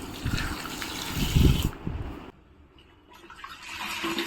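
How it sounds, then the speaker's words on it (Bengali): Water gushes loudly into a bucket holding a mop cloth and a little phenyl, a strong pour for about two seconds that then drops to a quieter trickle and fades. "তারপর দিতে হবে জল।"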